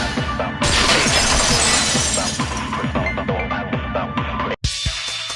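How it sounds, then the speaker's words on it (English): A vase shatters in a video game, a loud crash with scattering glassy debris and repeated clinks lasting several seconds, then a brief drop to silence before a final burst of breaking. "If it wasn't the window, then what broke to make that sound? A vase."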